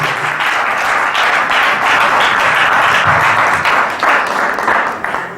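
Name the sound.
congregation applauding and cheering to acclaim the Lord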